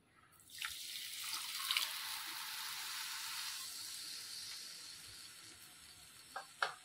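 Water pours into a pan for mango sheera in a kitchen, a steady splashing stream of several seconds that tapers off, followed by a few faint drips and clinks.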